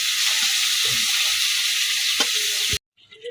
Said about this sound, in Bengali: শুক্তি মাছগুলো ভেজে নিয়েছি এখন উঠিয়ে নেব